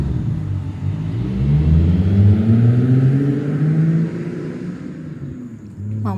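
A car drives past a fixed camera from right to left, its engine and tyre rumble swelling loudly as it nears, then fading away as it passes, with no talk.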